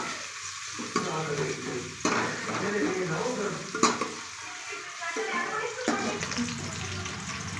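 Onions sautéing in a pan until golden, a continuous sizzle broken by regular scraping stirs about once a second, close and fairly loud with no talk.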